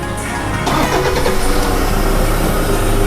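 A Toyota Fortuner with a flashing T-BELT warning light and intermittent stalling is started up close. A brief starter crank is followed by the engine catching and settling into a loud, steady idle, with no voices.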